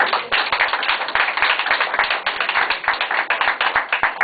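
Steady applause from a crowd, dense and sustained claps filling the whole stretch at a fairly loud level.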